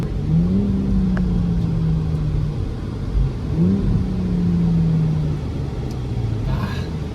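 A 2021 BMW M440i accelerating on the road, its engine note sweeping upward in two smooth pulls with a brief drop between, over steady road rumble and cabin whir, loud and close from inside the car.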